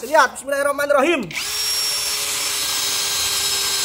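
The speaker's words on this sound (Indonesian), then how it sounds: "Ngebor kayu mas. Mata bor yang besar buat ngebor mas." A power drill with a large bit bores through wood, a steady loud whine holding after a brief burst of speech at the start, close and continuous to the end.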